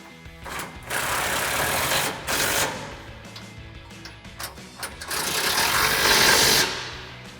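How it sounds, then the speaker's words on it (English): A ratchet with a 19mm socket and swivel tightens the bolts of an Extreme HD rear bumper on a 2009-2018 RAM 1500, with several whirring, buzzing bursts of varying length up close and short pauses between them. "we're going to tighten these two bolts down."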